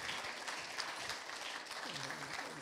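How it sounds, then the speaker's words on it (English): An audience at a summer showcase applauds a presenter, faint, steady clapping heard from a distance, with a voice briefly speaking over it near the end. "Can we give a round of applause to Anneka?"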